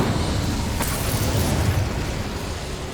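An Incendio fire spell cast in Hogwarts Legacy, a dense rumbling whoosh of flame with a brief bright burst near the start, steady and full-bodied to the end.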